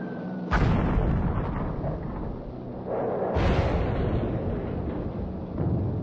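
Heavy bombs exploding on the German battleship Tirpitz in a Norwegian fjord, dropped by Air Force bombers carrying 12,000-pound bombs: two loud, deep booming blasts with long rumbling tails, and a third heavy impact near the end.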